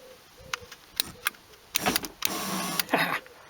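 Electric window motor on a Toyota Carina E, with the window mechanism bolted back in: a few short whirring bursts, then a longer close-up run, with no talking.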